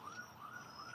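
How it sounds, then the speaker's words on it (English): Emergency sirens wail faintly in the background, a thin rising and falling tone heard briefly and far away, with no one speaking. "the sirens in the background?"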